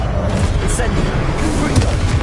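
Fire and disarming spells go off in Hogwarts Legacy on PS5 as rapid booming blasts and crackling bursts, loud and close, with a voice calling out over the effects.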